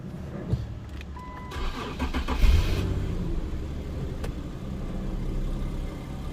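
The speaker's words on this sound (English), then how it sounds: "Let me go start the car quickly" An Infiniti Q50 with a VQ37 engine cranks and catches around the middle, then settles into a low, steady idle with no talking.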